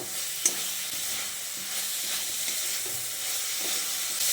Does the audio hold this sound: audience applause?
no